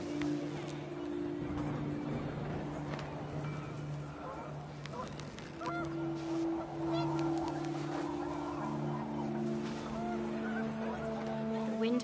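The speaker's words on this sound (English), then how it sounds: "The wind picked up, and panicked geese appeared and quickly went." Panicked geese honk in the video game What Remains of Edith Finch, their calls overlapping and layered over a steady windy rush with low droning tones running throughout.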